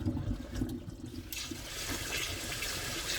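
Glutinous rice is rinsed in water for homemade makgeolli, giving a soft, continuous swishing and pouring that stays fairly quiet and close throughout, with no voices.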